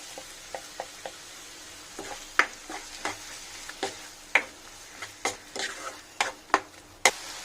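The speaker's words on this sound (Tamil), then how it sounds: "இப்போ நம்ம அரைச்ச தக்காளியும் முந்திரியும் ஊற்றிடலாம்." Ground tomato and cashew paste goes into a hot frying pan for capsicum gravy, giving soft sizzling with scattered sharp pops and crackles that grow more frequent, close and moderately loud.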